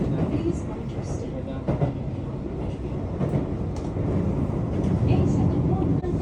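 A train sits at a station platform in Japan, a continuous rumbling hum of the railcars with faint clanks, while voices and announcements carry over it in the background.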